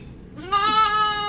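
A newborn lamb bleats once during farm processing, a close, fairly loud, wavering cry that rises and holds for most of a second over quiet background noise.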